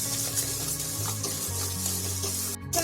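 Food sautés lightly in a pan for street-style pani puri kurma, a steady, even hiss that carries on throughout over a low droning hum, with no voices.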